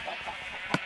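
A Minecraft video-game chicken gives a single short cluck near the end of a faint, otherwise quiet moment.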